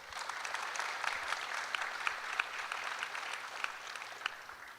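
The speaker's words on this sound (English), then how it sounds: "Please, a round of applause." Conference audience applause at a closing plenary session, dense even clapping from a large hall crowd, moderately distant and sustained without talk.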